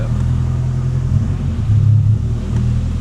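A Nissan S13 engine idles with a steady low rumble from inside the car as the clutch engages, the engine note dipping and swelling slightly, with no talk.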